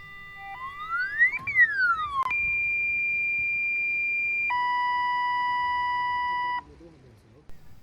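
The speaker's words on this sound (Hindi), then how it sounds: "और ये है भालू का अलार्म।" A motion-activated bear deterrent alarm goes off outdoors in a remote mountain valley, sounding a rising-and-falling electronic sweep, then a sharp click and steady loud tones that shift pitch once before stopping.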